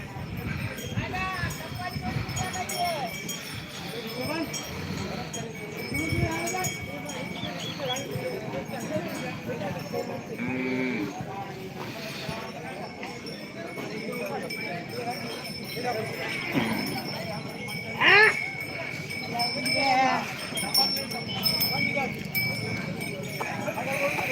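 Bullocks run at the Ghatanji bull market, their hooves clopping in an uneven patter amid a busy outdoor crowd, with people talking throughout and a brief sharp sound near the end.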